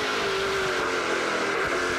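Onboard a WeatherTech.ca Dodge NASCAR Pinty's race car, a loud, close engine roar holding a steady high pitch at speed, with a faint rising tone at the start.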